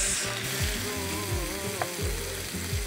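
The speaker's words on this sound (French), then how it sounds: "On va maintenant saisir les gambas." Prawns searing in olive oil in a hot pan, a steady loud sizzle and crackle throughout with a low bubbling rumble beneath, no voices.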